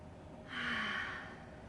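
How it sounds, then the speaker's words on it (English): A single deep, audible breath taken in a quiet room during a yoga forward fold, a soft breathy rush that swells and fades within about a second. "One more deep breath."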